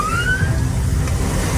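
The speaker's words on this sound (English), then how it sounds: "As lights and sirens lit up the night" A police car siren wails during a night pursuit, one rising tone sweeping upward early on over a steady low road and engine rumble, fairly distant and without speech.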